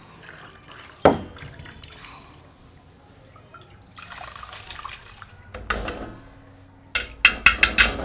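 Water being strained and poured while washing moong dal for UP-style moong badi, with sharp splashes and trickles, a loud pour near the start and a rapid run of drips and splashes at the end.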